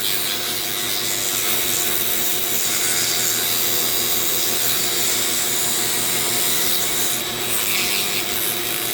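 A Dremel rotary tool with a 40-grit sanding bit carves padauk wood, giving a loud, close, continuous high-pitched whine with steady abrasive rubbing and grinding throughout.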